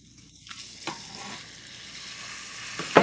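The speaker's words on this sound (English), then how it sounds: "In the same skillet, I will add the ground meat." Ground meat frying in a skillet gives a soft, steady sizzle, with a few scraping stirs and a sharper clatter at the end.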